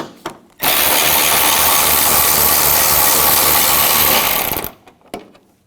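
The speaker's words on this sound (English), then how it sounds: "using a 10mm socket, we're going to take these nuts off" A power ratchet with a 10mm socket spins off nuts on a Hummer H3 during AC liquid line replacement, a loud steady whirring run of about four seconds, bracketed by short clicks and taps.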